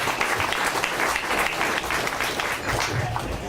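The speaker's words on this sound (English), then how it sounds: "just give them another round of applause for all their hard work" A crowd at an outdoor firefighters' rooftop camp-out fundraiser claps in a steady, dense burst of applause, close and fairly loud throughout, with a little murmur of voices underneath.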